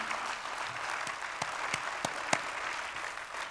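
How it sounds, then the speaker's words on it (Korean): A church congregation applauds in approval of a new co-pastor's appointment, a broad, fairly soft wash of many hands clapping in a large hall, with a few sharper individual claps standing out. "찬성하시는 분들 박수로 네, 결의해 주시기를 바랍니다"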